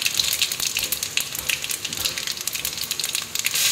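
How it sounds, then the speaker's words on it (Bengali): Dry red chillies tempering in hot oil with a five-spice mix, a dense, steady crackling sizzle close by with sharp spits and pops throughout, no voices. "শুকনো লঙ্কা ফোড়ন"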